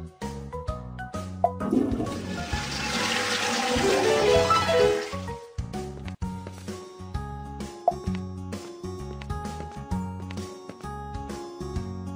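Cartoon toilet flush in a kids' baby-care bath-time game, a rising watery swirl lasting a few seconds over bouncy game music that keeps playing throughout.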